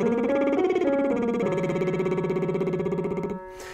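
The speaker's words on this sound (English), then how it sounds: "beginning with the lip trill." A singer vocalizes a lip trill warm-up, a buzzing sustained tone sliding across pitches over the upper passaggio, loud and close, ending with a brief breath.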